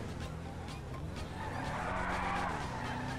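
Tires of a Nissan Patrol skidding while parking in GTA Online, a steady engine-and-tire noise building into a rising squeal, moderately quiet and continuous.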